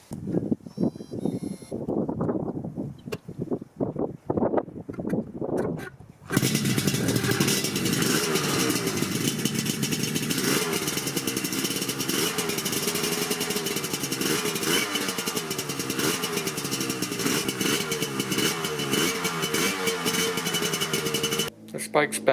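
A Yamaha RZ350 motorcycle project bike, fresh from electrical troubleshooting, cranks and then runs with a loud, rough two-stroke clatter and revving. It keeps going for about fifteen seconds before cutting out abruptly, with brief talk before it starts.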